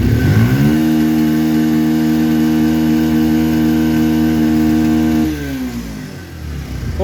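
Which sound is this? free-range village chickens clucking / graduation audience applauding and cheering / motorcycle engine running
motorcycle engine running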